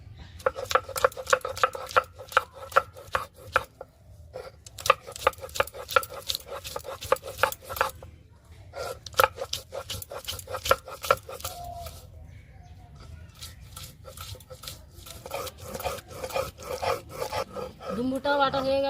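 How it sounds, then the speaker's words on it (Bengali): Figs being ground into a paste on a grinding stone for a Bengali fig and gandal leaf pakora recipe: repeated rhythmic scraping and rubbing strokes, close and moderately loud, in bursts with short pauses. "এবার আমি ডুমুরটা বেটে নেব।"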